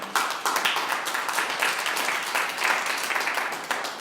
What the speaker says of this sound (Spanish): Denle un aplauso al